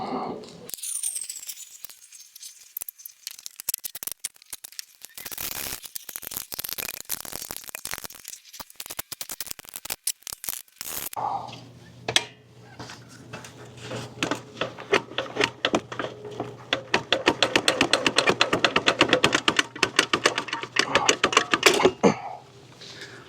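Metal clicks, rattles and scraping from a wrench loosening 12 mm bolts on the exhaust heat shield of a Honda CRF300L motorcycle, close and fairly loud, with a steadier busy stretch of rapid clicking in the second half.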